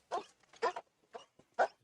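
A police drug-sniffing dog barks at a car during a traffic stop, four short, sharp, fairly faint barks spaced about half a second apart, with no talking.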